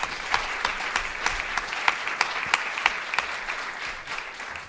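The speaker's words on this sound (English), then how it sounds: "Let's have a round of applause for our panel." An audience at an education conference applauds a panel with steady, moderately loud clapping that carries evenly for several seconds, with occasional sharper individual claps.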